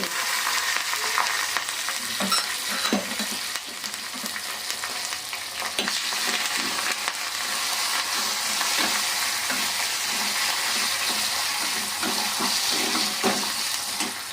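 Steady loud sizzling of oil in a hot pan as a tempering for lentil dal is fried, with occasional soft clinks and stirring noises throughout, no voices.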